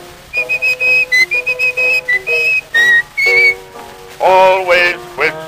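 A melodic tune whistled in quick, clear notes, with a brief run of rapid trills, followed near the end by a fuller, brighter sustained passage.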